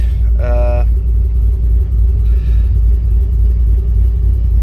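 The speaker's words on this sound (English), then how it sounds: "So yeah, you can see it's sitting there and idled." A 2008 Ford Mustang GT V8 with an aftermarket tune and a new high-volume oil pump idles steadily and loudly up close, a low continuous rumble. A brief voice is heard over it early on and a fainter one later.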